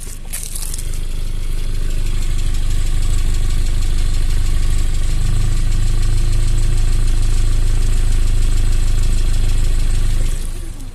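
A Renault Clio engine revs up as the accelerator pedal is pressed, rising into a loud, sustained drone with a strange rough undertone, holding steady for several seconds before easing back down. No one speaks.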